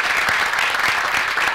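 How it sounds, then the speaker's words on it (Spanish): Brief burst of applause from a gathered audience at a closing event, steady clapping filling the whole moment at moderate loudness with no talk over it. "Un aplauso para ustedes mismos."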